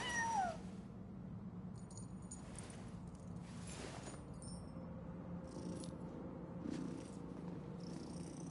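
A cat meows in Genshin Impact, with a few short, faint meows and soft purring over a quiet game ambience.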